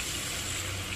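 Water pours into a cooking pot for an egg and papaya soup, a short, steady and fairly loud gushing stream with no talking.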